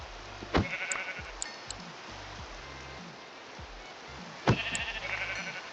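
Sheep bleating in a modded Minecraft-style game, two short bleats a few seconds apart over quiet ambient hiss, with faint game clicks between them.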